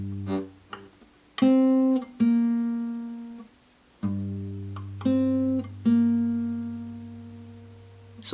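Acoustic guitar playing a repeated single note, plucked several times with clear ringing harmonics and decays, the fingering shifting partway through as the pinky is added and then lifted, played alone up close.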